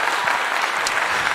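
A dense, even patter of many hands clapping runs steadily for over a second during a livestreamed townhall conversation, with no voices over it.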